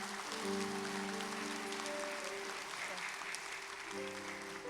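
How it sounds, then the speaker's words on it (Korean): Church congregation at a Korean War memorial worship service clapping for award winners as they step down, steady clapping throughout with a sustained organ or keyboard chord ringing beneath it. "수상자들 축하드리며 내려갈 때 다시 한번 박수 부탁드립니다"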